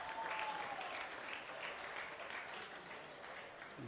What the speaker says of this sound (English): You can hear by the ripple of applause from the small gallery here tonight.